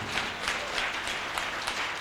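A church congregation applauds and acclaims the Lord: a short burst of dense, even clapping at moderate distance, with faint voices blended into the noise.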